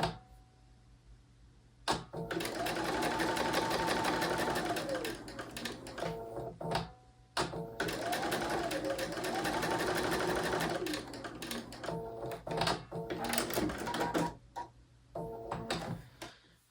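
A sewing machine stitches quilt fabric handles in two long steady runs of fast rhythmic needle clatter, with short pauses and fabric handling in between; close and clear, with no talking.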